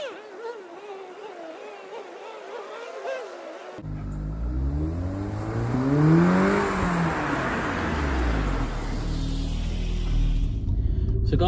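An Audi S3 quattro hot hatch rated around 296 brake horsepower, heard first as a quiet cabin hum, then pulling hard under acceleration with a loud rising engine note that climbs and shifts through gears.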